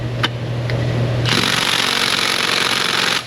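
An impact wrench hammering at bolts on a Honda Ridgeline under repair, a brief tap and then a sustained loud rattling burst up close for about two seconds before it stops.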